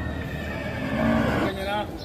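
Water buffalo (carabao) at a livestock market, a loud close call with a rough, harmonic, bellowing tone that rises briefly near the middle, heard over a busy background with people talking.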